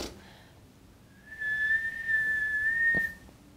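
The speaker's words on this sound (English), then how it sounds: "Can you whistle?" A person whistles a clear, sustained tune lasting about two seconds, steady and fairly close, with no talking during it.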